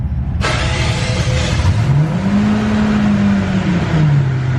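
A V12 engine in a totaled Mercedes S600 bought from a junkyard cranks and fires up with a sudden loud roar, then settles into a smooth, rising idle hum, close by with no talking.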